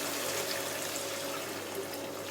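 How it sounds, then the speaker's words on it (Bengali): Water poured into a pan of potato and masoor dal fritter curry gives a steady, even splashing rush that holds at the same low level throughout, with no voices. "এবার একটু পরিমাণ মতন জল দিই"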